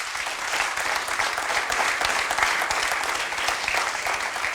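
A studio audience on a television show claps loudly and continuously, a close, dense burst of applause with no voices over it.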